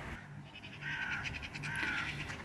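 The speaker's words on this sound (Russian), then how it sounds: "слушаю, как тут птички у нас разные щебечут" Several birds call outdoors on a sunny morning, a mix of chirps and harsher crow-like caws coming in bursts at moderate distance over a steady background hum, with no talking.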